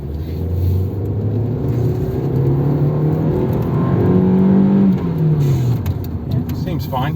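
A 1997 Nissan Altima with a 2.4 liter engine accelerates from inside the car, its engine note rising steadily as speed builds, then easing off near the end over steady cabin road rumble.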